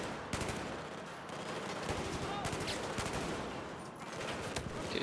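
Rapid automatic gunfire from the video game Battlefield 4 crackles in dense bursts throughout, with sharp separate shots near the start and end and game sound underneath.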